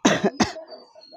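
A talking myna bird imitates a human cough, producing two sharp, close, loud cough-like bursts followed by fainter rasping throat sounds trailing off.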